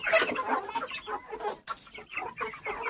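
Several chickens cluck and squawk close by in uneven bursts, a busy, chattering flock.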